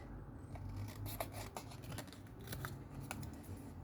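Scissors snip through Christmas paper while making gift tags, a run of quick, close crisp cuts with a soft rasping edge and no voices.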